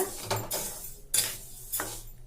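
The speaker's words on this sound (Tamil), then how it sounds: "இப்போ அரிசியை வறுத்துக்கலாங்க." Parboiled rice roasting in a pan for homemade kuzhambu chilli powder, stirred with a metal spoon that scrapes and clinks in three distinct close strokes.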